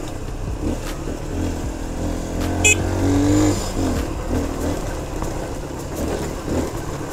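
A Victory MRX 150 motorcycle rides along a rural road past farms, its small engine humming steadily with a brief rise in revs midway, plus wind rush and road noise, no voices.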